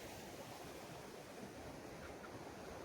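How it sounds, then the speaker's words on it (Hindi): Water flowing at Chikhloli Dam in Badlapur, a steady broadband rush with no breaks, heard from a distance and fairly faint, with no voices. "और वो पानी बहते बहते यहाँ पे आ रहा है"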